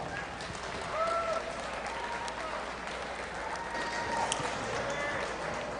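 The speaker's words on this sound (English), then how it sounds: "Let's give him a round of applause" Spectators at a youth fair livestock show give moderate applause for a sixth-place exhibitor, a fairly soft, even patter of clapping in a large, echoing arena, with faint voices and background noise mixed in.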